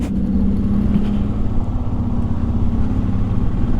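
Royal Enfield Himalayan BS6 motorcycle on the road after its first service, its engine giving a steady loud low drone throughout, close and continuous.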